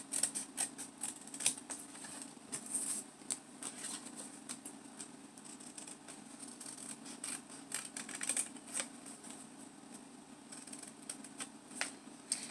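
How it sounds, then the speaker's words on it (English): Scissors snipping through cardboard while an owl shape is cut out by hand, a quiet run of short crisp clips and rustles of the turning sheet over a low steady hum, close to the microphone. "so it's easier to manipulate and turn your paper if you're cutting with the very back of the scissors"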